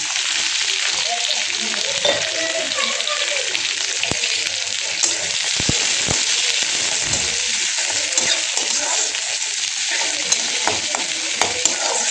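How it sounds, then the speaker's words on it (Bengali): Chopped onion and crushed garlic frying in hot oil in a pan, a loud continuous sizzle with occasional stirring scrapes and knocks, steady throughout. "আমি পেঁয়াজটা একটু ভাজা হোক, লাল লাল হয়ে যাক"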